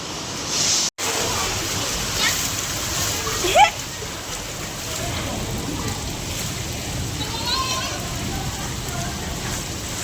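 Heavy rain pours down steadily with a dense, hissing wash of drops and splashes, with voices in the background now and then.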